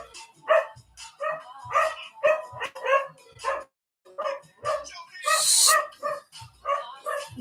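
A dog gives a run of short, close, high yips and barks in quick bursts, with a brief pause midway and a sharp hissy burst near the end.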